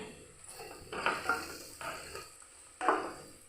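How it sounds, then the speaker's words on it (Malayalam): Vegetable fried rice being stirred in a pan for a Kerala party-style dish, with a few scraping, sizzling stirring bursts of metal on pan, close and moderately loud, and no talking. "ഇത് നമുക്കിതെല്ലാം കൂടെ ഒന്ന് ഇളക്കാമേ"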